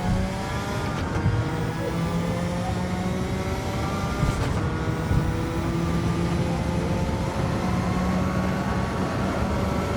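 Race car in a video game on the Tokyo Expressway, its engine droning loud and steady as it coasts, downshifts and accelerates, with rising and falling revs and no talking.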